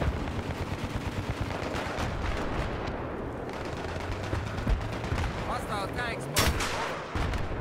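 A landmine detonates in Battlefield 3 during a Rush defense on Grand Bazaar, a sharp booming blast rising over constant rattling gunfire and artillery thuds in the game's battle din.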